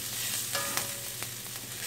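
Garlic, ginger and seeds sizzle and crackle in a hot pan, a steady close frying hiss with a few sharp pops and stirring clicks.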